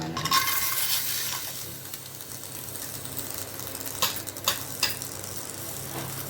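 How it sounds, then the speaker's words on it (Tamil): Mixed nuts being dry-roasted in a pan and stirred give a soft, steady rustling hiss, with a few crisp clicks of the spatula against the pan near the end and no speech. "இப்போ ஒன்று ஒன்றா போட்டு வறுத்துக்கலாம்"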